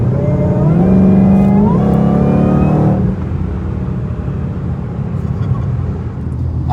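A Shelby GT500 pulls hard, its engine note climbing steeply through the revs for about three seconds before dropping into a lower, rumbling cruise. Loud and close, with no talking.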